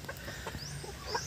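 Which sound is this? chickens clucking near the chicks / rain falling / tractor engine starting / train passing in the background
chickens clucking near the chicks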